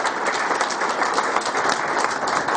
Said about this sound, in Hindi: मैं बहुत ही जबरदस्त क्लैपिंग के साथ